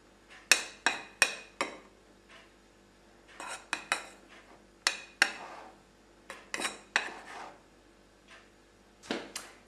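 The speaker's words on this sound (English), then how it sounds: "Mix this well and you have a cup of cake flour" Spoon or whisk scraping and clinking against a bowl while flour and cornstarch are mixed, in quick bursts of metallic clatter separated by short pauses.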